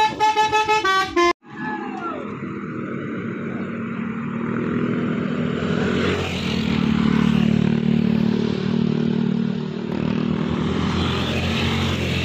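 A telolet bus horn plays a quick run of bright musical tones, loud and close. A heavy engine roar and passing traffic noise follow and swell for the rest of the clip.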